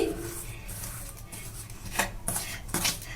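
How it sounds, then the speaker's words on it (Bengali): Dry pakora ingredients, including gram flour, are tossed and mixed in a bowl, heard as brief scraping and rubbing strokes with light clinks of a utensil against the bowl, close and fairly quiet. "এবার এই শুকনো উপকরণগুলো কিন্তু আমি ভালো করে মিশিয়ে নেব"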